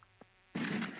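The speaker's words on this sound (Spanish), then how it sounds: "Son como abejas. Ahí vienen enjambres, malditas." Swarm of bees in the mines of modded Stardew Valley: a sudden dense buzzing drone starts halfway through and holds steady and loud to the end, after a couple of faint ticks.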